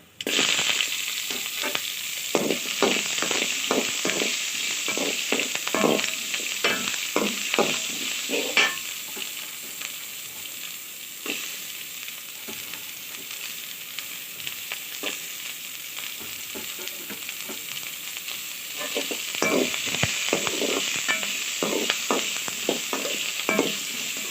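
Onion and curry leaves fry in hot oil in a pan, making a loud, continuous crackling sizzle with rapid popping spatters throughout, close and alone with no talk.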